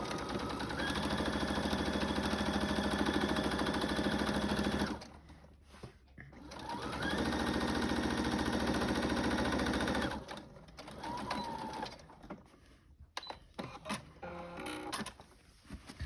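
A sewing machine runs a 2.5 stitch length with cotton polyester blend thread in two long steady bursts of rapid mechanical clatter. Short pauses separate the runs, and quieter handling clicks follow.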